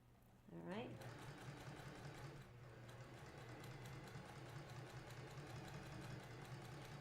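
A sewing machine stitches a quilt seam on a scrap quilt, starting abruptly and then running in a steady, close mechanical hum with fast rhythmic needle ticking, fairly quiet overall.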